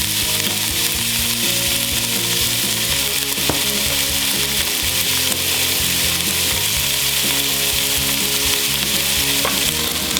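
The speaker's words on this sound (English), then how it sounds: "let's go in with our sirloin. And that's the sound you want to hear." Sirloin beef sears in a hot pan, giving a loud, continuous hiss and crackle that stays steady and close from start to finish, with occasional faint scrapes and no talking.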